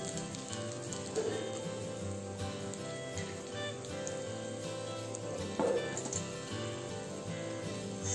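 Homemade fish fry sizzling in hot oil, a steady crackling hiss that runs throughout with a couple of brief louder pops, close and unaccompanied by talk.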